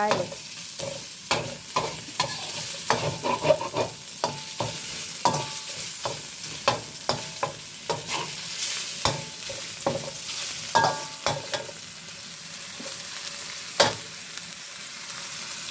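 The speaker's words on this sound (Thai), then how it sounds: "เร่งไฟขึ้นนะคะ ผัดหมูของเราให้สุกก่อนนะคะ" Pork stir-fried over high heat in a pan, a busy run of sharp scraping and clacking spatula strokes over a steady sizzle of frying, close and fairly loud with no voices.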